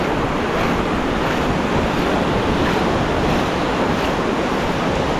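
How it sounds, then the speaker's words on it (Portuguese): Ocean waves break and wash steadily onto a sunny beach at Guarujá, a loud, continuous roar of surf mixed with wind buffeting the microphone, with no voices. "Ó, só as ondas."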